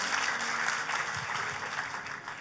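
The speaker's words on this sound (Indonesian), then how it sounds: "Tepuk tangannya yang paling meriah buat Tuhan kita." Applause from a church congregation at a GBI Keluarga Allah service in Jakarta, a steady dense wash of clapping that fills the whole moment at an even, moderately loud level.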